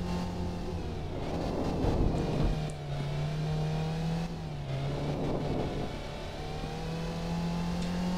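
A car engine in the Stunt Rally racing game revs and accelerates through corners, a continuous loud motor drone that rises in pitch in two surges, dipping briefly between them, with no talking over it.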